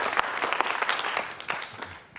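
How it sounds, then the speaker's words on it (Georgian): A studio audience on a Georgian variety show claps to welcome a guest, a dense burst of applause that stays loud and steady throughout, with no voices on top. "მივესალმოთ ტაშით"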